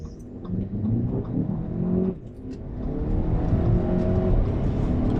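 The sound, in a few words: Audi A4 B8 2.0T Quattro accelerating on quarter-mile run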